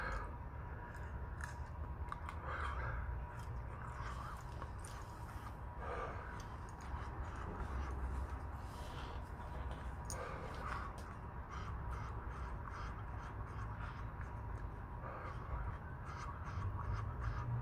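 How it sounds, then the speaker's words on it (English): Crows caw repeatedly outdoors against a faint, steady background hiss, with scattered calls spread across the whole stretch at low volume. "Birds."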